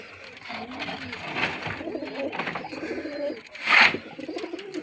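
Squab pigeons cooing inside a bird cage, soft repeated coos up close with a brief louder flutter or call near the end, mixed with faint background noise and murmurs.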